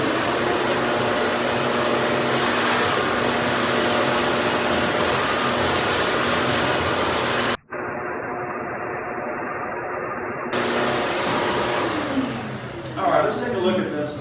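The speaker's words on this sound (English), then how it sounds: "let's vacuum this up" A vacuum cleaner sucks sanding dust off a wooden desk being refinished, a loud continuous whine and roar held throughout, with a brief cutout and rattling pickup noises near the end.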